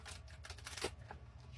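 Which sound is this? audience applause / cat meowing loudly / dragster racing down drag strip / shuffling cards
shuffling cards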